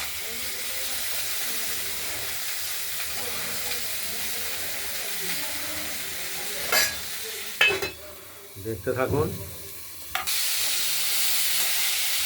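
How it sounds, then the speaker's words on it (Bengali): Beans and potatoes sizzle steadily in a hot pan as a spatula scrapes and stirs them, with a few clanks and a brief spoken phrase near the end. "ঢাকনা খুলে শিম আলু নেড়ে দিচ্ছি, ভাজা ভাজা হবে"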